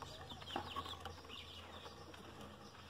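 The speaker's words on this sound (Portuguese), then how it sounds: "Olha as galinhas aqui, ó." A flock of farm chickens clucking in a yard beside pigs, soft scattered clucks and a few brief squawks at a distance, faint over an outdoor hum.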